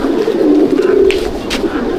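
Andhra pigeons in a loft give a steady, overlapping low cooing close by, a continuous murmur from several birds with a few brief higher flutters or clicks.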